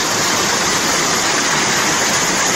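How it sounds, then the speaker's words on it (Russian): Steady, full-bodied roar of a waterfall in Russia, a dense wash of rushing water with no pauses, loud and close. "водопад."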